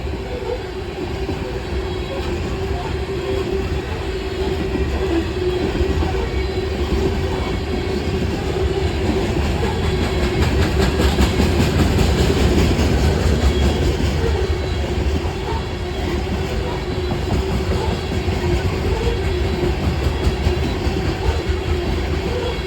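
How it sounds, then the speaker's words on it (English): A westbound loaded coal train rolls through Ashland, Kentucky, a loud steady rumble of heavy railcars with rhythmic wheel clatter, swelling slightly as cars pass close by, with no talking. "there goes westbound loaded coal going through Ashland"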